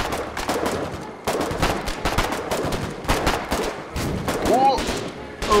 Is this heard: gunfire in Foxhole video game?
yes